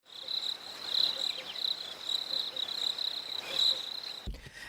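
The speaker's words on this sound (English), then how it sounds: "that's right, you can hear the crickets." Crickets chirp in a steady, high, continuous trill that runs almost unbroken and fairly loud, then cuts off abruptly near the end.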